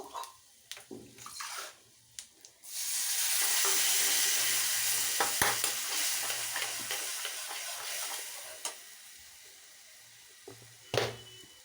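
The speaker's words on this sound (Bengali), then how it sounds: "আর ধনে জিরে আর লঙ্কা গুঁড়ো হলুদ গুঁড়ো সব দিয়ে মশলাটাকে একটু জল দিয়ে কষিয়ে নেব" Spice paste of coriander, cumin, chilli and turmeric powders frying with a little water in a pan, a few stirring knocks first, then a loud, steady sizzle from about two and a half seconds on, with occasional clinks of a spoon.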